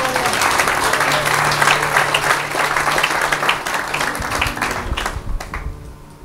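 Church congregation applauding in a sustained burst of dense clapping that fills the room, loud and close, slowly thinning toward the end.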